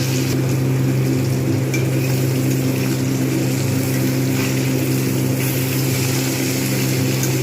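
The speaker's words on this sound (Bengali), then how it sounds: "একটা একটা করে সমস্ত মাছগুলো ভেজে নেবে" Pomfret fish fry one at a time in hot oil in a pan, giving a constant crackling sizzle over a low steady hum, with no talking.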